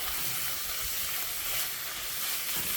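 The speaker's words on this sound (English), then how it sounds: "Once the bacon has started to cook for a few minutes, I'll go ahead and add that half a white onion that I diced earlier." Bacon and diced white onion sizzling in a pan for BBQ beans, a steady broadband hiss of frying running without break throughout, moderately loud and close, with no talking.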